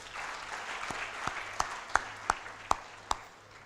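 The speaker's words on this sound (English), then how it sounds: "Please give all of them a round of applause." Steady, fairly quiet applause from a conference audience at an Indo-Pacific leadership gathering, a soft broadband patter with several sharper isolated claps or clicks standing out near the end.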